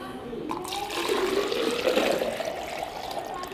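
Water poured from a container back into a bottle during a physics demonstration, a steady splashing, gurgling flow running close and fairly loud for several seconds.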